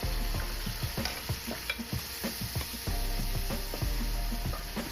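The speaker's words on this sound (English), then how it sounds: "I'm putting in the last pieces of meat, and I'm trying to make sure that the meat is facing the bottom of the pot so that it can brown evenly." Pork ribs browning in a pot of hot oil for yellow rice with ribs: a steady close sizzle broken by repeated clunks and scrapes as the meat pieces are set down and shifted, with no talking.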